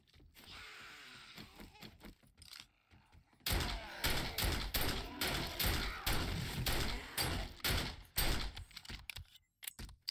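Gunfire in the survival game 7 Days To Die: a quiet stretch, then a dense run of sharp, loud shots and clattering impacts in rapid bursts, with brief pauses between volleys.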